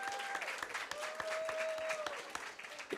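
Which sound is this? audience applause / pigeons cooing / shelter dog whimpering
audience applause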